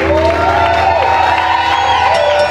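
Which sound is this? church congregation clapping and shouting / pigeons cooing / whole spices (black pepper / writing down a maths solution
church congregation clapping and shouting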